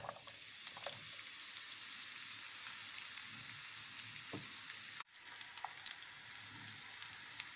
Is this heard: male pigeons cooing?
no